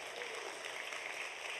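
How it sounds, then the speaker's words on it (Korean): A large audience at a world mission conference applauds in a continuous, even wash of clapping, heard fairly softly and at a distance. "박수."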